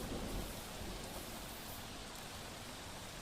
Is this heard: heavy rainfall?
yes